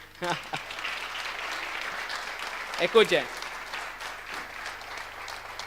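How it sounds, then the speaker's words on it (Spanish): An audience applauds for Martín, moderately loud clapping spread throughout, with a voice speaking over it and a brief louder burst midway. "Un aplauso para Martín."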